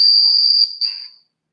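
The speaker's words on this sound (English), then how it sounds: "Sounds like crickets." Crickets chirping outdoors as a steady high-pitched continuous trill, loud and close, with a brief dip before it fades out, no talking.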